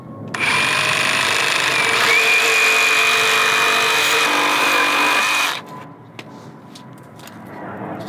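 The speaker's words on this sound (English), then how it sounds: "So I just wanted to show you how I make this cut with this blade." A power saw fitted with a brand-new blade rips through a cut on a deck landing build, its loud, steady high whine running for about five seconds before it abruptly stops and the motor spins down, with quiet workshop sounds afterward.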